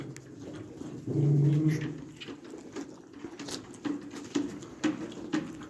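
A dog whimpers and gives a short yelp nearby, followed by soft pattering and faint chirping birds in the background.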